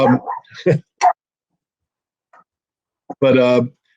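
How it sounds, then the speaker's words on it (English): A pet dog barks in a few short bursts in the background, scattered among stretches of silence, while a person talks nearby. "now you get to meet my other dog there,"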